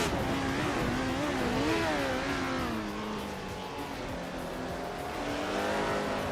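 A 1970 Lotus 72D race car roars through a racing video game, its engine whining and shifting pitch as it revs continuously at a constant, moderate level.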